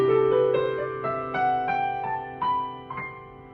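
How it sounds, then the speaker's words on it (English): Keyboard playing a C Lydian scale, one note after another at an even, moderate pace with about eight clear steps climbing upward, each note ringing on over the last, alone and close. "And in case you don't know, we call this scale C Lydian."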